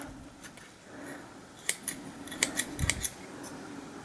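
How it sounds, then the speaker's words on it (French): Dissection scissors cutting open the right ventricle of a heart, several crisp snips in a quick irregular run, close and clear over quiet room noise. "Vous voyez que les ciseaux glissent sur la rainure."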